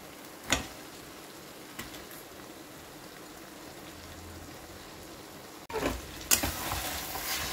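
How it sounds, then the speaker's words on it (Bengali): Katla carp fish heads frying and being stirred into a spice paste for muri ghonto, a soft steady sizzle with a few louder scraping stirs, growing more intense and crackly toward the end, no talking. "এবারে মাছের মাথাগুলো দিয়ে একটু কষে নেব।"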